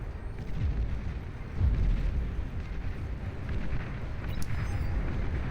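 Vanguard artillery in the real-time strategy game Beyond All Reason fires at distant targets, giving low, rumbling booms that repeat at a slow pace against a steady battle background.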